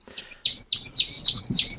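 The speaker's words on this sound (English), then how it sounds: "can you kill those fucking birds that are interrupting us? Those are animatronic." Animatronic birds chirp in a podcast studio with a quick, fairly loud run of bright tweets and short bursts, heard alone without speech.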